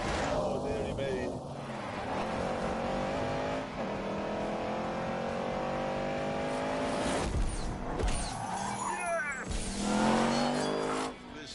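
A Ford Mustang RTR muscle car driving hard and skidding, engine revving and tyres squealing over several seconds, with someone talking over it.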